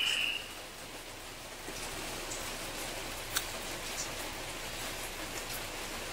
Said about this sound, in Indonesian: hari Jumat hujan masya Allah ya teman-teman